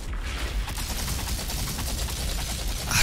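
Rapid, continuous gunfire from a weapon in Outriders crackles in a dense, even stream for several seconds, loud and close, with no talk over it.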